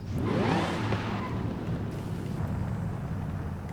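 A modified Chevrolet El Camino engine revs in Forza Horizon 5, a loud, rough throaty roar that swells quickly at the start and then holds as a steady rumbling drone.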